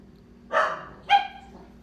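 A dog gives two short, sharp barks about half a second apart, moderately close, against a quiet indoor background.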